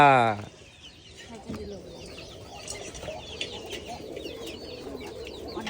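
Pigeons gather at a village coop and give soft, scattered coos and bird calls, moderately close, with other birds in the background. A voice is heard briefly at the very start.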